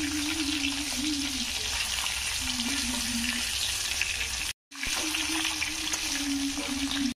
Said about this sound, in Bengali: এই মাছগুলো খুব কড়া করে ভাজবো না, হালকা করে ভাজবো।